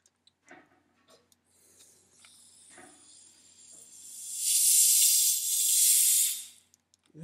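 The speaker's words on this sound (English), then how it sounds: "It's not just a fizz, that's a rocket fizz." Freshly opened Big Red soda fizzes, starting as soft faint crackles and small clicks, then building into a loud, bright sustained hiss that fades out near the end, with no talk over it.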